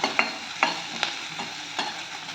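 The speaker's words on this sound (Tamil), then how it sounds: "நீல வாக்கில் கட் பண்ண பெரிய வெங்காயம் ஒன்று நல்லா கிளறி கொடுத்துக்கலாம்" Large sliced onion frying in hot oil with fennel seeds and bay leaf for mutton chops, steady sizzle with sharp spatula scrapes against the pan every half second or so, close and clear.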